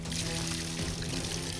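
Water pours from a pipe into a field being flooded for rice transplanting, a continuous gushing splash with a faint steady hum underneath and no clear talk.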